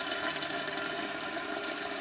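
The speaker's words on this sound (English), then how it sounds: "So basically the whole tank and bowl combination is just filling" Water runs steadily into a clogged lowboy toilet as its tank and bowl keep filling, a continuous close rushing and trickling hiss with no pauses and no voices.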